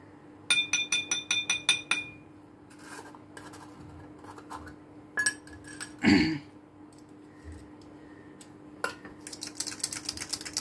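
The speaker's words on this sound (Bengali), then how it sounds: "একটা গ্লাসে এরমভাবে একটু ডুবিয়ে রাখবো, তাতে খুব ভালোভাবে বের করা যায়।" A metal kulfi mould knocks and clinks against a glass, with rapid clusters of sharp taps, a short scraping rattle midway and quieter scattered clinks after, close and with no talking.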